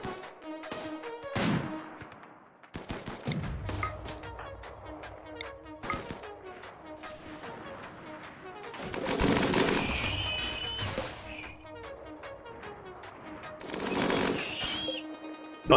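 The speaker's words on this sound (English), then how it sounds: "as soon as my my guns are spun up, I probably won't have to do very much." Guns fire at enemies in the RimWorld video game in several sharp, rattling bursts, separated by quieter stretches of scattered pops and tones.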